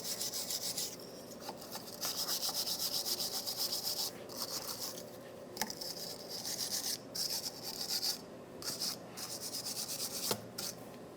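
A brush scrubs rust off the brake hub surface of a 2013-2020 Nissan Pathfinder in quick, rhythmic rasping bursts, close and fairly quiet with short pauses between strokes.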